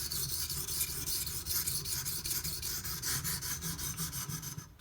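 A knife blade scrapes in steady back-and-forth strokes across a sharpening stone on a Hapstone T1 clamp sharpener, producing a close, continuous rasping rub with a brief stop at the end.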